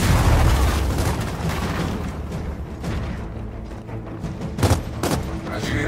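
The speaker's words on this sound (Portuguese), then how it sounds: "Lançando granada de fragmentação." A fragmentation grenade blasts in the video game Gears of War 4, a loud booming burst at the start that rumbles and fades, followed by a few sharp pops and clatters of gunfire-like effects.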